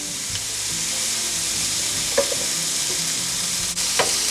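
Beef steak sizzling in a pan as it is turned, a steady close frying hiss with a few scraping and clinking touches from the turning, with no talk.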